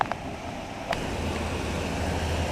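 Wind of about 25 knots and breaking waves around a sailing boat running downwind at sea under staysail and mainsail, a steady rushing roar with a low rumble, a few brief knocks early on, and no talking.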